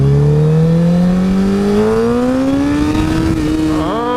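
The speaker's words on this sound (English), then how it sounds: "When I downshift and I get that engine braking, I'm like, roo." A 2008 Honda CBR1000RR liter-bike engine revs steadily higher while being ridden, its loud, continuous drone climbing in pitch over about four seconds before dipping briefly near the end.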